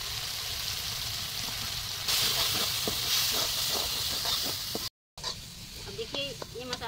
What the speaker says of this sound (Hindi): अब देखिए ये मसाला भी तो भुजा गया